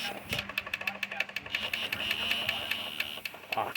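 A faulty VCR's tape mechanism whirs and clicks in a rapid repeating pattern, with a low motor hum underneath, while struggling to eject a stuck cassette; a voice talks faintly over it.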